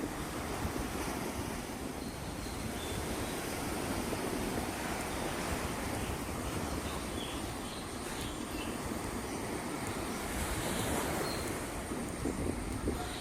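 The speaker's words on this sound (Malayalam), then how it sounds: "അത്യാവശ്യം നല്ല രീതിയിൽ വെള്ളത്തിൻ്റെ ഒഴുക്കുണ്ട് ഇവിടെ" Strong water current at Thottappally estuary rushes and churns in a continuous dense roar, loud and steady throughout with wind buffeting the microphone, with no one talking over it.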